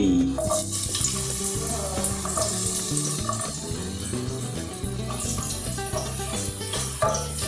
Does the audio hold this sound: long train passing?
no